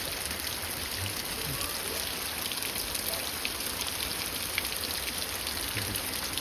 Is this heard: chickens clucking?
no